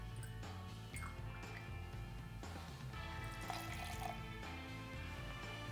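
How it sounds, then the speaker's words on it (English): Lillet Blanc poured into a cocktail shaker for a Vesper martini, a faint liquid trickle and drip sitting low under a steady, humming background. "Next, I'll add the 1/2 ounce of Lillet Blanc."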